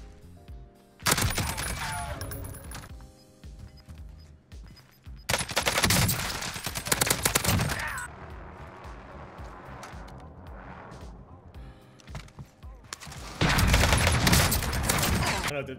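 Automatic gunfire in the video game Warzone from a gun that empties a 30-round magazine quickly, heard as several loud, dense bursts separated by quieter gaps filled with game noise.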